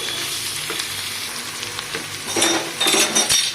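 Minced meat fries in a pan with onions, a steady close sizzle broken by scraping stir strokes and a few light metallic clinks of the spoon against the pan; no one speaks.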